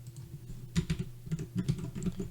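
Someone types on a computer keyboard, a close stream of soft irregular key taps over a low steady hum, with no voices.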